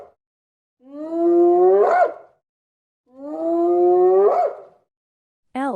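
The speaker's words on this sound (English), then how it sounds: "Ethiopian jackal." An Ethiopian jackal gives two long, rising howls with a bending, wavering pitch, loud and close, separated by a short silence, with the start of a third call at the end; no talk.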